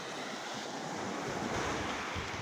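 Gentle sea surf washes on a calm beach under a continuous broadband rush mixed with wind buffeting the microphone, steady and fairly loud throughout with no voices.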